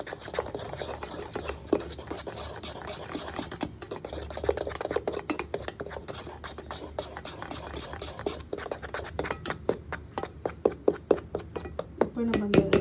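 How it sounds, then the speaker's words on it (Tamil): Vanilla sponge cake batter is stirred in a bowl, a continuous scraping whisk with rapid rhythmic strokes that quicken toward the end, close and moderately loud, with faint talk at times. "இது வந்து நம்ம நல்லா மிக்ஸ் பண்ணிக்கலாம்."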